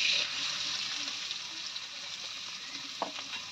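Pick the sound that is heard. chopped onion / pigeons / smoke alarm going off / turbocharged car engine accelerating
chopped onion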